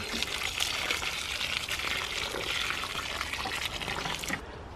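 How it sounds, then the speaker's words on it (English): Water poured onto the soil around a newly planted grapevine, a steady close splashing and trickling flow that stops abruptly at the end. "We'll water it well, and that'll settle the soil around the roots"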